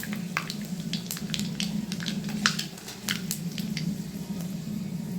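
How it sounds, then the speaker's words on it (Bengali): Two dried chillies and five-spice seeds hitting hot oil in a pan, a steady close-up sizzle with crackling pops scattered across it. "তেলের মধ্যে আমি 2টো শুকনো লঙ্কা আর 5 ফোড়ন দিয়ে দিচ্ছি ফোড়নের জন্য।"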